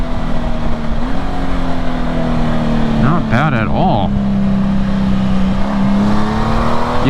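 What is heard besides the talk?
Honda Gold Wing GL1800 motorcycle engine revving while riding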